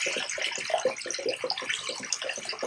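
A high-powered aquarium pump outlet fitted with an F-zone filter gushes a strong stream of water into the tank, a steady splashing rush with bubbly churning, close and continuous.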